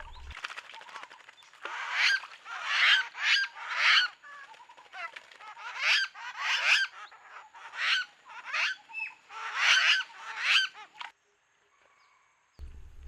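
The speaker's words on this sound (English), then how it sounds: "The lesser necklaced laughing thrush here." A lesser necklaced laughing thrush calls at Rocky Pool in February, loud chattering bursts of squawking notes in quick rhythmic runs, close by, ending in a brief quiet.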